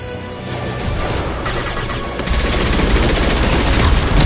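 Dense sustained gunfire in the Mass Effect 2 video game, loud and continuous rapid shots that grow heavier partway through, with no talking.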